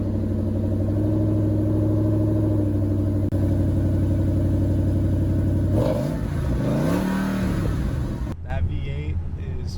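A Ford Mustang GT of the S197 generation with its V8 engine, a deep steady rumble that rises and swells in a rev partway through, then drops back, loud and close.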